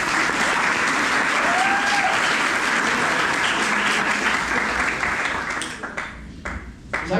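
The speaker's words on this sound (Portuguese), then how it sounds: "uma salva de palmas para ela" An audience in a church gathering bursts into sustained, dense applause for someone speaker, holding steady for several seconds before thinning into scattered claps at the end.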